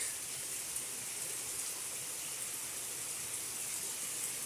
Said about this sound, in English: It's raining like the fucking hell.